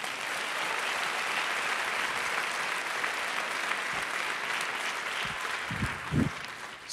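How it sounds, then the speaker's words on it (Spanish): Church congregation applauding during a Spanish-language service, a sustained, even wash of many hands clapping, with a few low thumps near the end. "Dale un aplauso al Señor."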